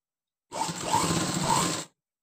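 A sewing machine stitching a blouse runs in one continuous motorized burst of a bit over a second, close and steady, starting and stopping abruptly with no talk.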